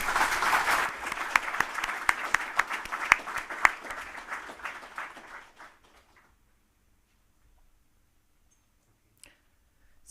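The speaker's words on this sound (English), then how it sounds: "Let's give them a big hand of applause." Audience applause at a datacenter forum session, a dense burst of clapping lasting about five seconds before tapering off into near silence, with one faint click near the end.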